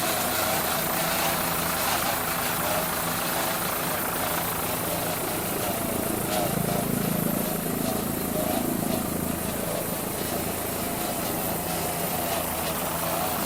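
A 36-foot Skater offshore racing powerboat, triple outboard class, roars steadily at the Key West offshore world championships, with heavy engine drone running throughout under a commentator's voice.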